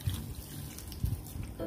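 Water runs and splashes into a pan of salted fish, a short steady trickle with small bubbling bursts, close by.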